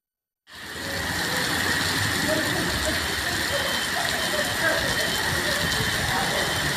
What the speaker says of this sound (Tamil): நீலகிரி மாவட்டம் கூடலூர் சுற்றுவட்டாரத்தில் இரண்டாவது நாளாக கனமழை பெய்தது